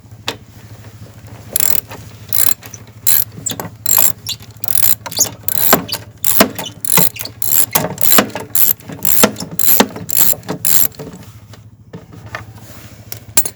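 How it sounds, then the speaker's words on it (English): Ratchet wrench with a 3/8 drive backing a bolt off the gas tank of a Briggs and Stratton lawnmower, giving close, loud bursts of rapid clicking in repeated strokes with short pauses between them, over a steady low hum. "Then you take a 3/8. You take this bolt off"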